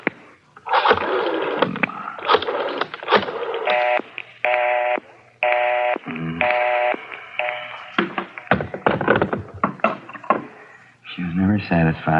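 A telephone is dialed during a scene in the Dragnet radio crime drama; a run of short, evenly spaced tones and clicks is broken up by voices talking over and between them.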